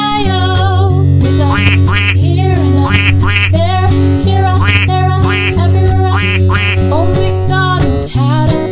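A sung nursery rhyme, Old MacDonald Had a Farm, with a duck's quack voiced as part of the song over steady bouncy music and sustained instrumental tones; the quacks are likely sung or imitated by a voice within the track.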